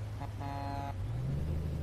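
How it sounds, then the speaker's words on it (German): A Peterbilt 389 truck horn in American Truck Simulator gives one short, loud, tonal honk lasting about half a second, heard over steady engine rumble and rain. "Und das ist jetzt die Hupe."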